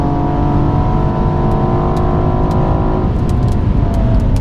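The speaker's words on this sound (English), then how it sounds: "Hear that Civic's turbo spooling up." Loud, continuous car engine drone on a dry race track, with a Honda Civic's turbo spooling up as a rising whine underneath, then a shift in pitch partway through, with faint ticking clicks on top.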